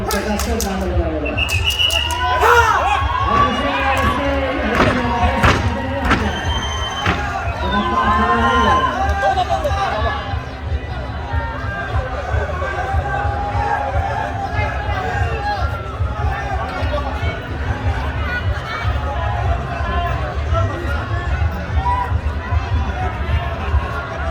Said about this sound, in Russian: Народу очень много, когда люди кричат, я даже себя не слышу.